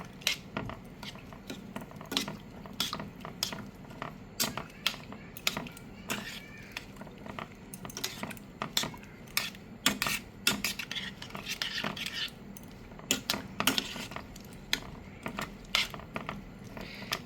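Repeated scraping and clinking of a spoon stirring cherry tomatoes and cinnamon in a pot for jam, irregular strokes at a steady pace, close and moderately quiet.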